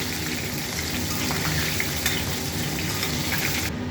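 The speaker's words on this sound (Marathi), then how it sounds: "याला छान लालसर होईपर्यंत आपल्याला तळून घ्यायचे आहे." Soya chunks deep-fry in hot oil, giving a steady dense sizzle and bubbling hiss, close and loud throughout, with no talk.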